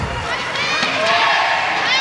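An arena crowd at a world weightlifting championship cheers and roars as a lifter walks out, a dense, loud wash of voices swelling across the moment.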